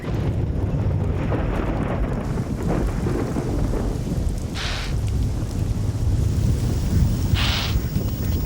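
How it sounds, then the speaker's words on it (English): A rainstorm with thunder in southern Africa: dense steady rain hisses throughout while deep thunder rumbles roll underneath, loud and enveloping, with no voices. "It's December, and the rains have arrived in southern Africa."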